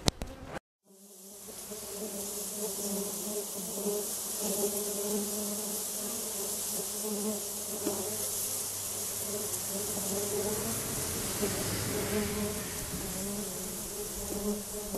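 A honey bee swarm buzzing steadily and densely nearby, a continuous layered drone that holds for the whole stretch after a brief moment of silence at the start.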